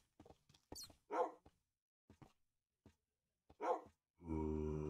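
Tamed dogs barking in the video game Minecraft, several short sharp barks in separate bursts with silent gaps, ending in a sustained tonal game sound.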